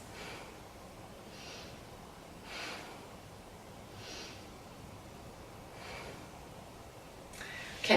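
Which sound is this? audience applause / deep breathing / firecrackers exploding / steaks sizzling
deep breathing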